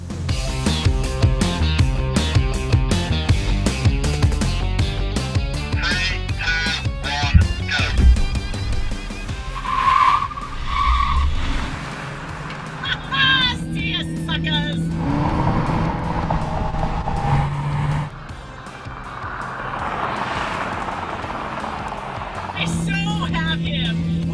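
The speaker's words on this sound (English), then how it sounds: "first up is a half-mile drag race" Toyota Camry, Chevrolet Malibu and Ford Fusion hybrid sedans run a half-mile drag race, their engines droning and revving throughout, mixed with music and people talking over the car noise.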